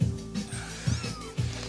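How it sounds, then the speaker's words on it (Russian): A kitten meows in several short, close bursts at a steady rhythm, each a brief tonal cry with quieter pauses between, with no talking. "Кто там мяукает?"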